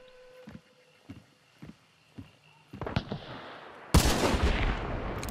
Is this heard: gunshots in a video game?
yes